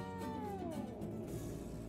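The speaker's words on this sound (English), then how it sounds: "Oh, here's a cat." A single drawn-out cat meow with a falling pitch in the horror video game Dreadout 2, heard close and clear over a steady background hum.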